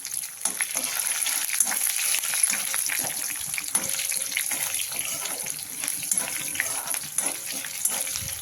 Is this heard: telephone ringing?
no